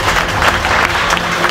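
An audience at an Indonesian overland community finish event claps in a dense, loud burst of applause, brief and continuous.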